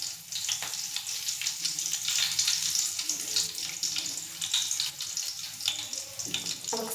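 Curry leaves dropped into hot oil with cumin seeds, hissing and spluttering steadily and close by, with sharp crackles scattered throughout and no voices.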